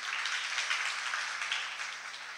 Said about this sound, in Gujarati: એક વખત તમારે કોટડા ગામને ખૂબ તાળીઓ વધાવી લઈએ